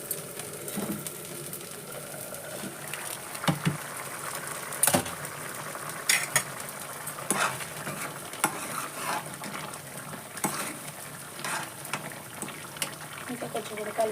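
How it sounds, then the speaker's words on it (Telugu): Chili powder being stirred into a tomato curry in a pan, with soft scraping strokes and a light sizzle, a few sharper clicks of the spoon, close by and fairly quiet. "ఇప్పుడైతే 1 టేబుల్ స్పూన్ కారం వేస్తున్నాం ఫ్రెండ్స్. కలిపేస్తున్నాం."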